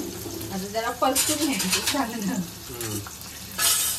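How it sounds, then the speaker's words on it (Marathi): Stir-frying in oil for kadhi pakoda, a soft crackling sizzle under a person talking close by, with light scraping in the pan. "आता त्याला परतून घ्यायचं."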